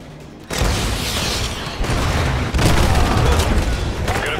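Heavy rumbling blasts from AGM missile strikes in Call of Duty Modern Warfare 2, a sustained roar that swells in stages with a fresh loud impact surge near the middle, dense and booming.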